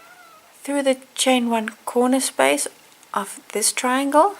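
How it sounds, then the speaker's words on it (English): Hungry domestic cat meowing insistently indoors, a run of about six or seven close, drawn-out complaining cries in quick succession, with a person speaking faintly beneath. "Oh sorry, that's my cat, he's complaining."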